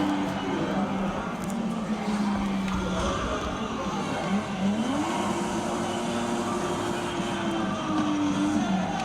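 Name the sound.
race car engine in a racing video game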